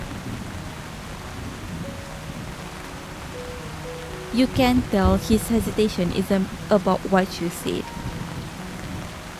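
Heavy rain pours steadily with rumbling thunder in an audio-drama storm scene, a constant wash of noise under a voice speaking throughout.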